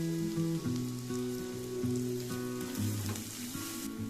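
Garlic and curry leaves frying in hot oil for paneer 65, a steady soft sizzle under a louder tonal background sound, no talking.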